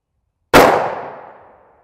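A single sharp shot of an H110 load cracks into an armour panel, a sudden loud ringing clang that decays over about a second after silence, with no talk.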